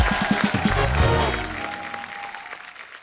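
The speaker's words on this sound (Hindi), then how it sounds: "पूरी टीम के लिए जोरदार तालियां।" Enthusiastic audience applause for the cast and team at a Panchayat Season 5 special episode, loud at first and then tapering off, mixed with music or other sound early on.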